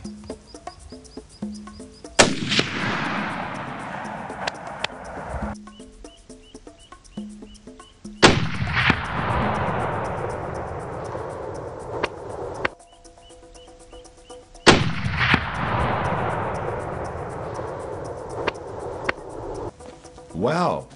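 Rifle shots ring out across a valley during a warthog boar hunt: three loud, sharp cracks about six seconds apart, each trailing into a long, rolling echo.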